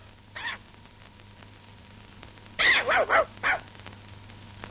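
A dog barks once, then gives a quick burst of three or four sharp barks after a pause, close by against a quiet, humming background, in an old animated children's cartoon.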